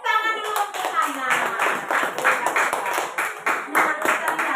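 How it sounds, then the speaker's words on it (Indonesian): A primary school class claps for a classmate named Hana, a close burst of many hands beating in a fairly even rhythm, with children's voices mixed in. "Tepuk tangan dulu untuk Hana."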